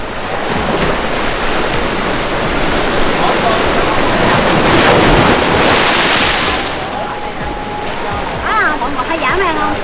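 Strong sea waves crash against a concrete seawall and embankment on the coast at Tân Thành, Tiền Giang, making a continuous, loud, roaring wash with surging peaks. Voices are faintly audible near the end.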